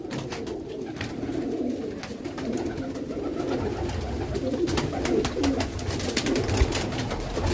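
Many pigeons in a breeding cage coo steadily and overlap in a continuous, close, murmuring chorus, with soft rustling and occasional wing or cage noises throughout.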